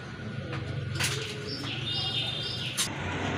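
A pair of pigeons coo softly nearby, with a low murmuring call, a few light chirps and brief wing flutters against a faint background hum.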